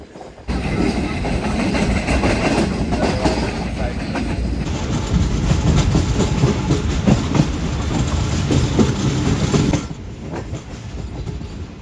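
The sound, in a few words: Awam Express train approaching Rohri Junction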